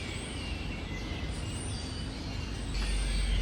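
Loud birdsong fills the grounds of Pena Palace in Sintra, Portugal, as a dense, continuous chorus of high chirps and calls over steady background noise, growing slightly louder toward the end.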